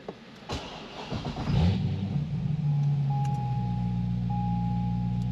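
A tuned car engine on a dynamometer roars up through a loud, rising rev, then settles into a steady, sustained drone with a faint high whine, close and loud with no talk.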